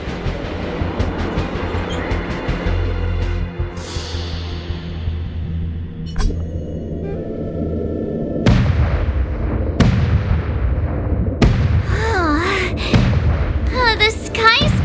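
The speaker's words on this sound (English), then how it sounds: "The Sky Splitter's gun salute is really loud." Loud booming gun salute from the Sky Splitter in the game Honkai Star Rail, heavy sharp blasts repeating across several seconds over a rumbling mechanical bed, with speech running beneath.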